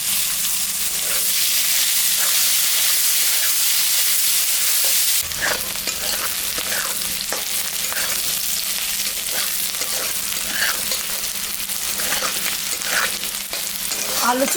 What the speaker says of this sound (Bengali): আলু পেঁয়াজটা ভাজা হয়ে গেছে,